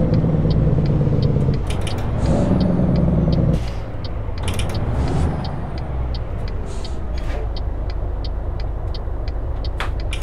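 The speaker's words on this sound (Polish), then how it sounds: "Posłuchajcie sobie, jak to wnętrze grzechocze." The cab interior of a Peterbilt 379 rattles in American Truck Simulator, with loud, steady engine drone and road rumble under a train of regular ticking rattles and occasional creaks, and no voices.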